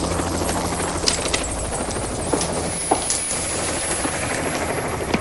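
A helicopter drones steadily with a continuous rotor roar, close and loud, with occasional sharp clicks and knocks over the whine, in Norfolk in 1985.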